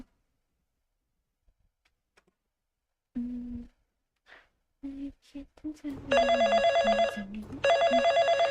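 A telephone rings in a horror game, two loud bursts of electronic ringing near the end, after a quiet stretch with brief talk and clicks.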